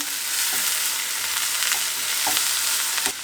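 Salted vegetables for a Kerala thoran stirred in a hot pan, a steady close sizzle with scraping stir strokes through the frying.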